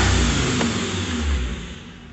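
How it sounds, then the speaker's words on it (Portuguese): Fiat Marea engine with its original exhaust idling and revving gently from inside the car, a steady low rumble with a slight swell partway through, fairly loud and with no talk. "o ronquinho dela original"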